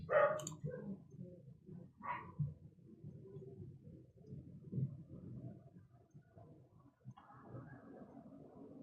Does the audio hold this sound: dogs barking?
yes